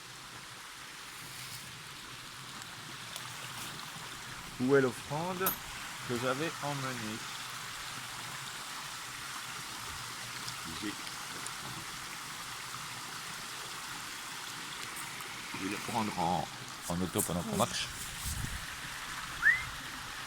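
Steady broadband rush of water from a waterfall and flowing stream, constant throughout behind a person speaking French while walking toward the falls.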